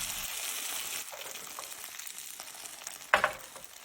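Soft, steady sizzling of sweet potato and poured beaten egg frying in a pan, with faint stirring scrapes and one sharper clatter near the end, quiet and close.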